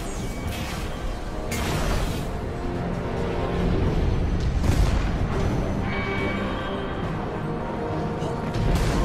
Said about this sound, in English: That blast knocked a few more cell blocks open.